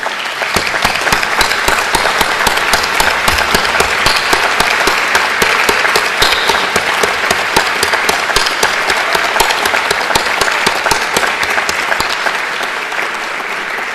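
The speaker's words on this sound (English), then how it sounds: "let's applaud those people that have supported you during this journey here at Swinburne" A graduation ceremony audience at Swinburne claps for supporters in sustained, dense, loud applause from a large crowd, even and unbroken for the full stretch before gently tailing off.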